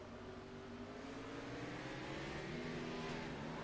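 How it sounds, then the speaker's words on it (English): Race car engine in the iRacing sim at Richmond Raceway revving hard and continuously, a loud steady drone with pitch shifts as the driver misses a shift, going into first instead of third and spinning the tires. "Listen to the revs."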